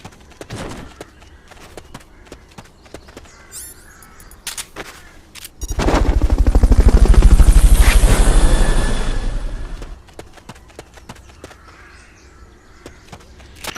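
A helicopter in the video game Metal Gear Solid Peace Walker HD swells in with a loud, throbbing rotor beat for about four seconds, then fades, set among sparse clicks and ambient game effects.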